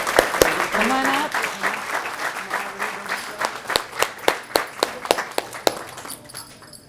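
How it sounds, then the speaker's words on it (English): Audience at a school district governing board meeting breaking into applause, dense at first and then thinning into scattered individual claps that fade out near the end, with some voices murmuring underneath. "let's give them all a big round of applause"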